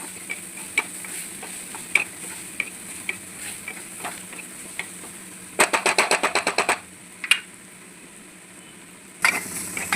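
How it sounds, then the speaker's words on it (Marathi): Carrots and green beans in oil for a vegetable upma crackle and sizzle steadily while a spoon scrapes and taps the pan, with a quick burst of rapid clatter partway through. "आता आपण इकडे गाजर आणि फरसबी घेतलेली आहे, पण तेलामध्ये मस्त असं शिजवून घेऊ."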